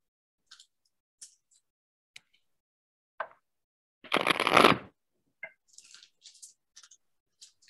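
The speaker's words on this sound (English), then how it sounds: "I shuffle the cards." Playing cards are shuffled in one quick riffle, close and crisp, surrounded by scattered soft taps and clicks of handling.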